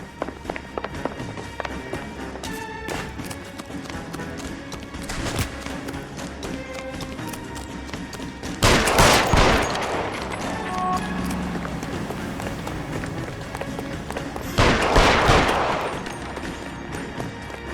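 Gunfire in the video game L.A. Noire: a couple of loud, sharp shots burst out over a busy background of footsteps and scattered ambient sound, spaced several seconds apart.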